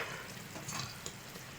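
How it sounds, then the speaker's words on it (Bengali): Malpua being gently stirred in sugar syrup in a pan for a homemade Holi sweet, giving a faint, soft, steady bubbling and swishing with a couple of slightly louder stirs. "এবার এটাকে একটু হালকা হাতে নেড়ে দেব।"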